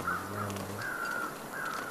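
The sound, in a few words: crows cawing in The Long Dark video game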